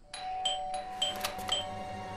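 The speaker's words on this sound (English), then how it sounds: "I thought I should use the doorbell so I wouldn't startle you." A doorbell in the video game Blues and Bullets chimes several times in quick succession, bright clear tones ringing close and fairly loud over a quiet background.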